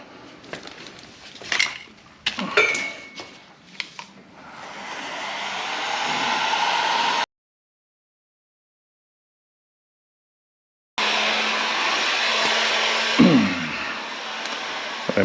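A heat gun blows on a VW 02S six-speed transmission part during disassembly, a steady, fairly loud whooshing hiss that rises after a few clinks of metal tools, cuts to silence, then resumes with a light clatter.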